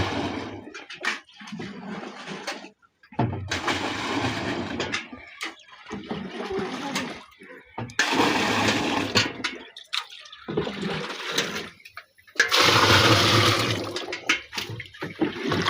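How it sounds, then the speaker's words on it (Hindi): Water gushing into a drum for making jeevamrut, a farm fertiliser, in loud rushing bursts broken by short pauses, up close. "अब मिक्स होने के बाद में हम इसमें ड्रम में पानी डालते हैं, इस ड्रम को पानी से भर देते हैं।"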